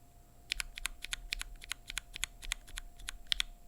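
Typing on a keyboard fitted with Velocifire KK Lightwave linear switches: a steady run of crisp, close key clacks in quick irregular rhythm, with no voices.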